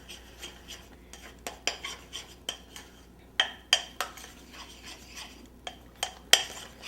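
Peanut butter buttercream frosting is mixed by hand in a bowl, with repeated scraping strokes and clinks of the utensil against the bowl in an uneven rhythm, close and fairly clear.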